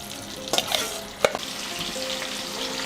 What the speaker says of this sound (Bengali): মাংসগুলো আমি 2 পিঠ মিডিয়াম হিটে ভেজে নেব।